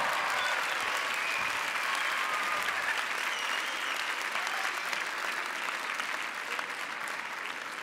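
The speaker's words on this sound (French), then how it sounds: "On les applaudit bien fort." Audience applause at the Break The Floor 2018 breakdance battle quarter-final, Jinjo Crew versus Objectif Rockerz: dense, steady clapping from a large crowd, loud and continuous throughout, with faint cheering mixed in.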